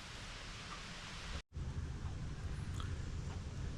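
Steady rain falls outside all day, a dense, even hiss that drops out briefly for a moment before resuming at the same level, with nobody speaking.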